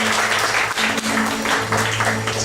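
Applause from a congregation at a Saturday church worship service, a dense steady patter of clapping over a sustained low hum, lasting the whole moment without a break.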